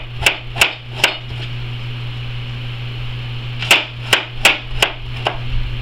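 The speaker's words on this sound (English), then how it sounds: "And then I'm just going to finely chop it like this." A knife finely chops a broccoli stem on a cutting board: sharp, evenly spaced taps in two short bursts, three strokes and then about five, close and clear over a steady low hum.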